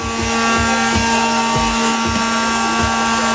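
Steady whine of a power sander working a Genesis Coupe widebody fender in a paint booth, with a rhythmic low thumping of strokes repeating about every half second, close and loud.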